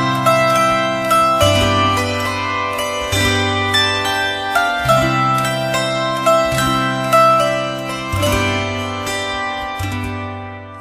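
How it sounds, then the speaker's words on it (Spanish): A zither plays a plucked melody over repeated bass notes, bright and sustained, loud and close, alone with no talk, one of the instruments that came before the piano. "La cítara suena así."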